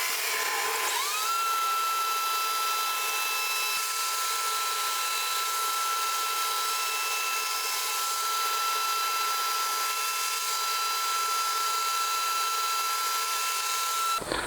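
A high-speed power tool cutting black pearl pickguard material around the edges during a guitar build: steady, loud whining spin with a sustained high tone, running continuously and close before cutting off abruptly at the end.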